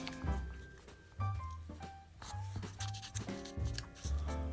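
Paper being folded and creased by hand for a Christmas tree tea bag card, giving soft rustles and sharp creasing rubs over steady background music.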